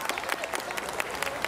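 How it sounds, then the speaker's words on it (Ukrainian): Loud applause from a festival crowd at an outdoor Ukrainian community celebration, dense steady clapping filling the whole stretch with scattered sharper claps standing out. "Гучні оплески для каси «Самопоміч»."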